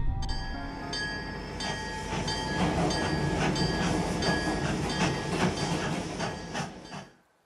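A train in the video game Dark Tales: The Tell-Tale Heart rumbles past with rhythmic clacking wheels and metallic clatter, loud and close, then fades out sharply near the end with no voices.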